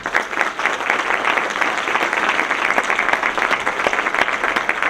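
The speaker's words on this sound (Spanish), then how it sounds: "les pido por favor un fuerte aplauso." Loud, dense audience applause at a conference on personal data protection in Latin America, steady continuous clapping from a large crowd throughout.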